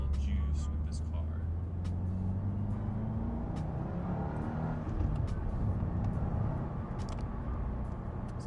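Subaru VB WRX with a manual gearbox accelerating, a deep continuous engine drone and road rumble heard from inside the car, steady and fairly loud for several seconds without talk over it.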